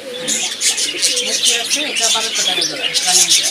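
Lakka pigeons coo in low, throaty tones while other birds chirp and tweet busily overhead, a steady chorus with no pauses.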